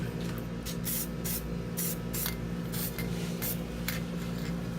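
A spray can hisses paint onto a sign in bursts of about a dozen short sprays, close up, over a steady low hum and no talk.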